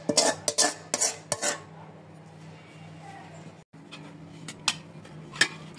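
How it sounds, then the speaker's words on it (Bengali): Metal pot clatters as polao rice is tipped in for a mixed-everything khichuri, with several sharp scraping clinks near at hand at the start and end and a quieter stretch between. "তো এইখানে আমি পোলাওটা দিয়ে দিলাম।"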